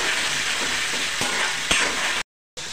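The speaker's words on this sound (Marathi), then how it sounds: "तेलामध्ये टोमॅटो आपण परतून घेऊया" Tomato and curry leaves sauté in hot oil with a steady, close broadband sizzle and a few stirring scrapes, then a brief cut to silence before the frying resumes.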